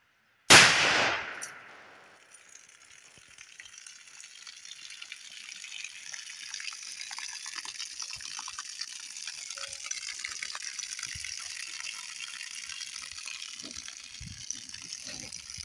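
A single sharp shot from a .357 Cimarron Thunderer revolver fired into a water jug outdoors, a loud close crack that quickly fades into a long, steady hiss of water gushing and spilling.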